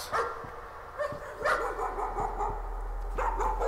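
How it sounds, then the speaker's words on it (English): Dogs barking within the horror video game Layers of Fear, several sharp barks and yips at irregular intervals, moderately loud and somewhat distant-sounding, with no talking over them. "Oh, the dogs."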